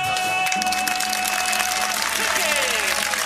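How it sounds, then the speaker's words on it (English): Applause from a soundbite played on a comedy panel show, a steady dense patter of many hands lasting about three seconds, fairly loud, with faint voices mixed in. "Is that just applause?"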